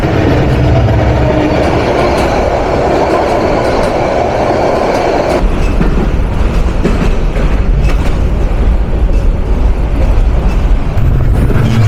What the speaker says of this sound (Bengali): 3025 নিয়ে যাচ্ছে আন্তনগর কক্সবাজার এক্সপ্রেস